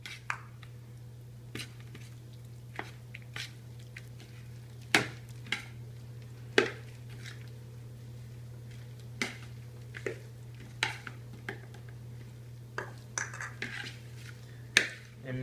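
Ricotta, egg, seasonings, mozzarella and Parmesan cheese stirred together in a bowl, a spoon knocking against the sides in scattered taps over a steady low hum, no talking.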